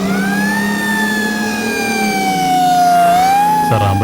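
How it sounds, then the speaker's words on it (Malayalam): An ambulance siren wails loud and close, its tone gliding slowly down and back up before an abrupt lower burst of vehicle noise at the end. "ആംബുലൻസ് എത്തി."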